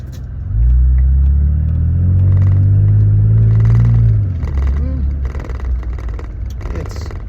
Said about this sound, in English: So I'm just pulling out of the driveway.